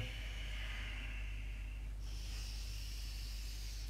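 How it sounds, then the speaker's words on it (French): Breathing during a morning yoga routine for neck and trapezius pain, a slow hissing inhale shifting into a brighter exhale partway through, steady and close with no talking. "J'inspire. J'expire."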